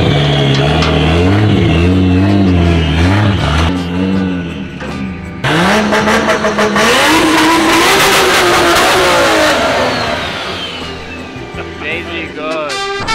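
A BMW E36 with a swapped JZ engine revs loudly nearby, rising and falling through several throttle blips, with people talking and exclaiming over the engine noise.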